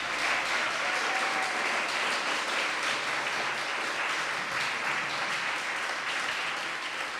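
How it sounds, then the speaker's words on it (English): Sustained applause from a live studio audience cheering the contestants of a comedy show, a dense, steady wash of clapping that holds at an even level throughout. "Let's hear another round of applause for all our contestants tonight."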